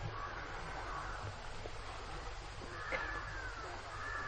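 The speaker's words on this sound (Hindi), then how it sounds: "यहां इतने पक्षियों की आवाजें हैं," Crows caw faintly in the distance within a forest soundscape, their calls thin and sparse against a soft, steady outdoor hush, with no voices.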